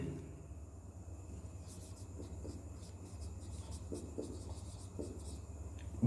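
A pen scratches across paper in short rubbing strokes, close and fairly quiet, over a low steady background hum.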